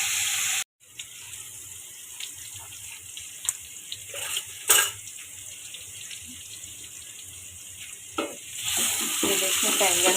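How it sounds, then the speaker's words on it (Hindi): Eggplant pieces frying lightly in a pan for a quick tomato-baingan dish, giving a steady close sizzle with a few sharper spatters and clinks throughout, rising a little toward the end, with no talking. "ये देखें बैंगन हल्के से फ्राई हो जाए।"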